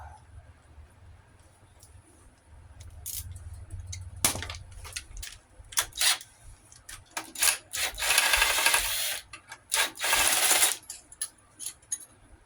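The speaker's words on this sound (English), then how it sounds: "Get these head bolts out." A wrench works on the cylinder head bolts of a Yamaha TTR-125 engine during a top-end rebuild, making close metallic clicks, ratcheting and scraping clanks in uneven bursts, with a few louder stretches of rattling.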